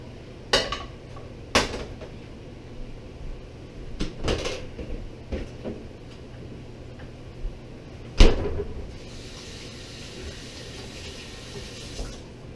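A metal Stanley cooking pot handled at a bushcraft camp: a handful of sharp clanks and knocks spaced irregularly, with one loud bang near the end over quiet background.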